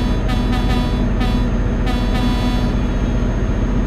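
Truck horn honking in the Euro Truck Simulator video game, a few short toots over a steady, loud engine and road rumble, with no talking.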